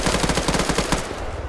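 Automatic gunfire in a military video game during an air assault VIP escort match, a loud rapid burst of sustained shots that dumps a whole magazine, then cuts off sharply, no voices.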